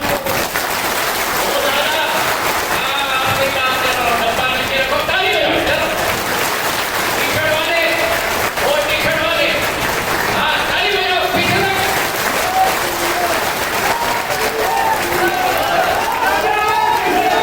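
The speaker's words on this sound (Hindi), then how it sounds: "चलो करेरा की ताली सुनाओ।" A crowd claps at a gathering of the Khangar-Parihar community in Karera. The applause is continuous and loud, with voices and shouts rising over it across the whole stretch.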